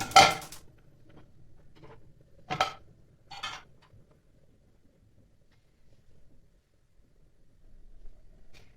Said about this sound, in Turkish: Hemen tavam ocağa koyuyorum.